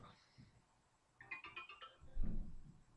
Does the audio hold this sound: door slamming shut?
no